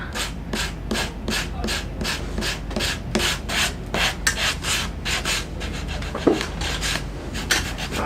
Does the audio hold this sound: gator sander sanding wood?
yes